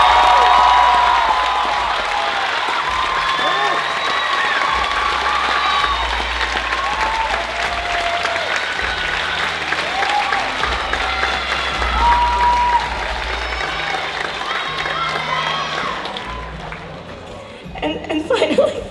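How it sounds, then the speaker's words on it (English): Lively audience applause at a university cultural night show honoring the two producers, dense clapping with cheers and chatter, sustained and loud before thinning out at the end. "we need to give a round of applause for our two Culture Night producers, Justin Shin and Kelly Decatani"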